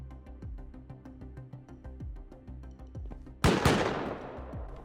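Gunfire rings out in the survival video game Rust as shots are fired at the player. A run of repeated sharp reports is capped by one loud, close blast that trails off, with no talk.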